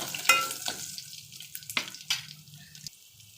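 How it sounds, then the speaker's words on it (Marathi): Garlic cloves and asafoetida sizzle briefly in hot oil for a Malvani-style tempering, a soft crackle with a few sharp spitting bursts and gentle stirring, close by. "फोडणी छान भाजले गेलेले आहे तेलात"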